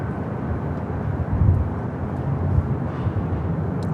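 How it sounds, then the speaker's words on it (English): A LATAM Boeing 787 Dreamliner departing LAX: a low, rumbling engine roar, moderately loud and steady with slight surges, heard alone without talk. "Looks like we have a LATAM Dreamliner heading out"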